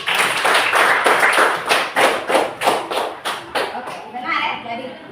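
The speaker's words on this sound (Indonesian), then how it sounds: "Kita berikan aplaus untuk Elvin dulu" Students in a classroom give a short round of applause for a classmate, a burst of rhythmic hand claps that slows and fades over a few seconds as a voice starts speaking near the end.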